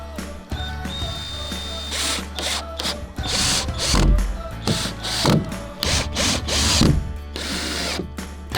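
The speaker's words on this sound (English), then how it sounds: "First, we screw in the self-tapping screws around the perimeter." Power drill driving self-tapping screws into boards around the perimeter of a floating house platform frame, rapid ratcheting clicks and short whirring bursts mixed with knocks and clatter, close up.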